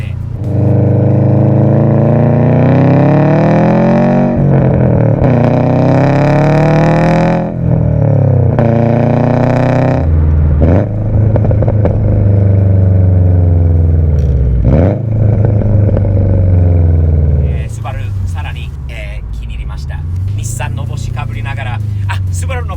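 A tuned Subaru STI engine revs repeatedly in rising and falling sweeps, loud and close, with a person talking over it throughout.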